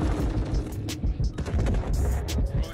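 Rapid gunfire in a video game, dense bursts of shots and booms that fill the whole clip, loud and continuous, with a voice talking faintly underneath.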